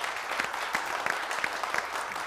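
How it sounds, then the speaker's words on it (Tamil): Studio audience applause on a Tamil TV comedy show, a steady wash of many hands clapping with a few sharper claps rising out of it, moderately loud and unbroken. "எனக்கு பெரிய கைத்தட்டல் கொடுத்துடலாம்"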